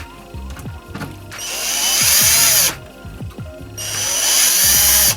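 A power screwdriver backs screws out of an Xbox 360 Slim during a fan replacement, two loud close whirring bursts of about a second and a half each, separated by clicks and handling noises.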